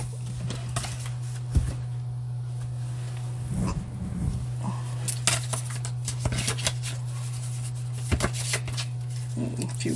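Tarot cards being shuffled by hand: repeated crisp riffling bursts and soft taps scattered through the clip over a steady low hum, fairly close and moderately loud.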